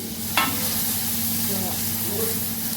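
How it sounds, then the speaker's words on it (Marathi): Tomatoes hitting hot oil in a pan with moong dal and spinach give a steady, fairly loud sizzle and hiss, opening with a sharp crackle, plus a low constant hum beneath. "असा सणकण असा आवाज त्यामध्ये टमाटरचा आला पाहिजे"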